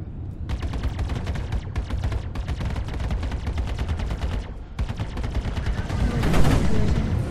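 Bulldog repeater ballistic guns in Star Citizen fire long rapid bursts, dense rattling automatic fire with a short pause around the middle, continuous and loud, with no talking.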